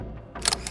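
A single quick camera shutter click, brief and crisp, followed by a soft electronic whine like a flash recharging.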